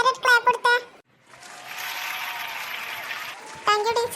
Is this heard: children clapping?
yes